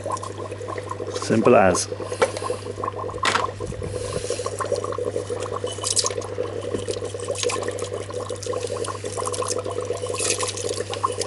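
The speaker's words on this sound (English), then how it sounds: "we're just going to pour this in" Copper chloride solution pours into a container in a brief splashing gush near the start, followed by a steady low bubbling hum while someone speaks briefly.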